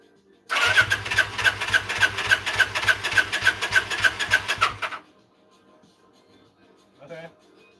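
The starter motor on a Vulcan engine cranks in a fast, even rhythm for about four and a half seconds, the engine nearly catching but not running, then goes quiet and a voice speaks briefly.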